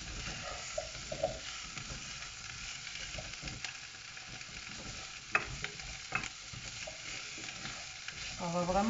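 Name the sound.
meat and butternut squash cooking in a pan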